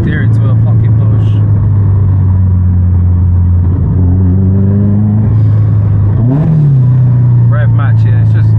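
A 400 hp Subaru Impreza STI Spec C engine drones loudly from inside the car, with its pitch rising and falling through quick revs and shifts as the driver rev-matches, while people talk over it.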